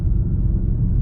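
A 2019 Audi A5 cruising on a highway, a steady low road rumble with engine and tyre noise held at an even level throughout, with no talking.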